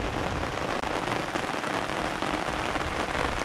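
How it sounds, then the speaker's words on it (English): Heavy rain pours down in a thunderstorm, a dense, loud, continuous hiss of drops drumming on surfaces, with no voices and no distinct thunderclap. "we're back again to heavy rain and thunder and lightning within 3/4 of a mile of where I'm sitting"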